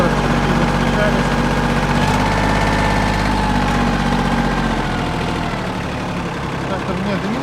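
A Mitsubishi GF15 mini tractor engine idles loudly and steadily close by, a constant low chugging rumble with vibration that stays even throughout.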